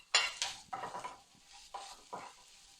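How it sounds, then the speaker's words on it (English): Ginger and chillies stir-fried with garlic in a hot oiled pan: several scraping stirs with a spatula over a light sizzle, close and fairly quiet, with no talking. "Now that that's been done, we will add our ginger and our chillies."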